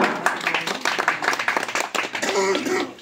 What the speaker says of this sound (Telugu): క్లాప్స్ కట్టాలన్నా